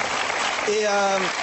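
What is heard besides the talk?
studio audience applause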